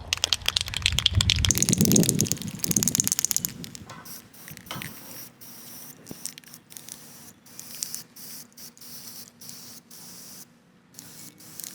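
Bursts of spray painting on the inside of a hanging herb garden planter hiss loudly at first, followed by quieter intermittent spritzes mixed with clicks and rattles of the can.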